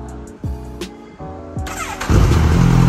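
Kawasaki ZX25r motorcycle with an Aero aftermarket exhaust cranks through a few short starter attempts, then fires up and settles into a loud, steady idle close by.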